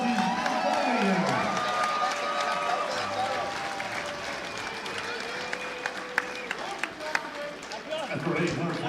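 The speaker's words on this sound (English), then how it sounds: "Can I get a big round of applause for both of these warriors?" Crowd at a live boxing event at the VIVO Event Center in Texas applauding and cheering both fighters after the final bell, a dense continuous roar of clapping and shouts while an announcer talks over it.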